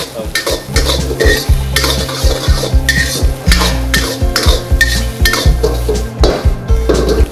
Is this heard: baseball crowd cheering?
no